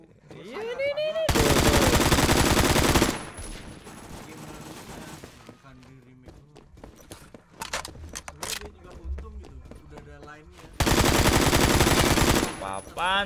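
Automatic gunfire in the Roblox shooter Phantom Forces: two long loud bursts of rapid machine-gun fire at the start and end, with quieter shots, scraping and a speaking voice in between.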